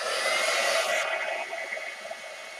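A hair dryer blowing on a mixed media journal page gives a steady, close whooshing hiss that shifts in tone after a second, as if the airflow changes, then continues more softly to the end.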